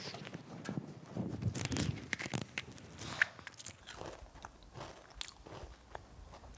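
A chocolate chip macadamia nut cookie is bitten and chewed up close: crisp crunching bites followed by softer, irregular chewing, with no talk.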